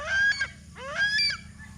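Pet chickens let out two short, harsh, honking calls in quick succession, close and clear over faint low background noise.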